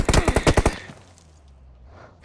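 A video game gun fires a rapid burst of about eight loud, close shots in quick succession, then cuts to quiet background ambience.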